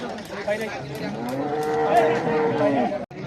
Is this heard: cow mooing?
yes